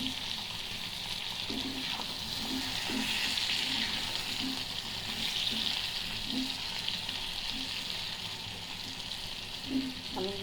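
Potato pieces frying in a pan for an egg-and-potato dish, with a steady low sizzle of hot oil and faint scattered taps and stirring sounds throughout.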